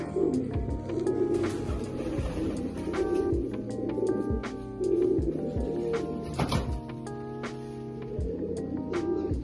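Several pigeons in a room set up for them give repeated low, rolling coos close by, overlapping in an uneven rhythm alongside sharp clicks and flutters.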